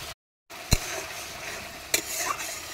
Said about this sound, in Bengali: মশলাটাকে ভালোভাবে কষিয়ে নেব, অনেকক্ষণ নাড়াচাড়া করে।